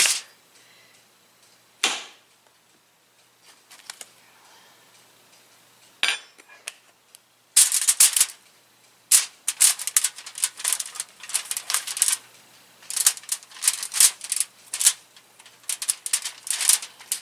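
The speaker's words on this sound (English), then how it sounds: "I'm going to cut that one a little thinner then" A knife slicing potatoes thinly, with a few isolated cuts at first, then a rapid run of sharp, crisp taps against a cutting board, close and fairly loud, with short breaks between runs.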